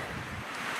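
Wind gusts across a mountain camp during an Alberta sheep hunt, a brief loud rush buffeting the microphone with no voices.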